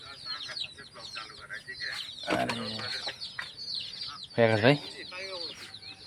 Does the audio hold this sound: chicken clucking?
yes